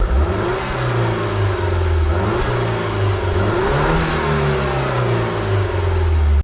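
A Peugeot 208 GTi engine revs repeatedly during an exhaust sound check, a loud, close, sustained growl rising and falling in several swells without pause.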